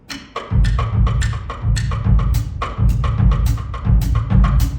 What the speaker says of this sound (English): Songo on a Casio keyboard sounds like this.